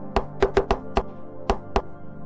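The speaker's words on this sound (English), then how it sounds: "Mercury knocks on the door" Knocking on gigantic wooden doors at the end of a corridor: about seven sharp, resonant knocks in an uneven rhythm, close and clear, with no voices.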